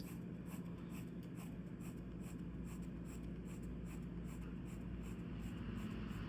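Pencil or pen drawing horizontal and diagonal lines on paper, a steady continuous scratchy rubbing with faint repeated strokes, close up and alone under a low background hum.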